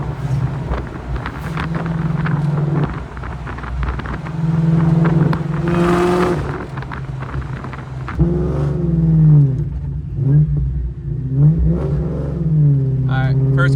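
Supercharged 2.2 Cobra kit car pulling hard through first gear, its engine note rising and falling under blower whine and wind buffeting, with people talking nearby.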